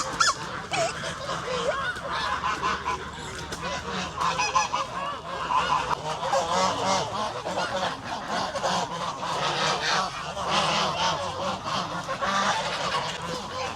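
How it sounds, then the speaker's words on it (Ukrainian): A flock of geese honks continuously and loudly, overlapping calls filling the whole stretch with busy, nearby cackling. "гуси перегорождають дорогу"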